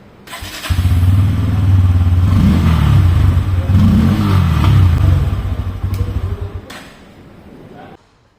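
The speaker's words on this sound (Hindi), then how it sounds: "Now let's hear the exhaust note after installing a fresh new air filter." A Pulsar N160 motorcycle with a freshly installed air filter idles close by, its steady low exhaust note rising in a few throttle blips before settling and cutting off near the end.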